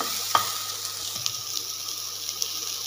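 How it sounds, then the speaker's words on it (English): Chopped onion frying in a pan with a steady, close sizzle, a few soft stirring clicks and knocks on top and no talk. "when the onion turns brown and gives good aroma"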